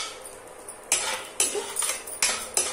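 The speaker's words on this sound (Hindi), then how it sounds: "और ये देखिए, अब इसमें हम भूनेंगे अपनी बादाम और काजू," Almonds and cashews roast together in a pan for a poha chivda snack, marked by sharp intermittent metallic clinks and scrapes of a spatula against the pan over a faint background hiss.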